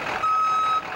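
A tow truck sounds its reversing alarm, a single clear electronic beep that sits over low street noise at moderate distance.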